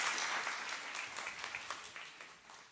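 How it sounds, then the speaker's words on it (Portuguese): A youth group audience of teenagers breaks into soft, quick clapping that stays fairly faint and distant throughout, a scattered patter of hands with no clear voices on top. "Palmas pro Vitor Corajoso."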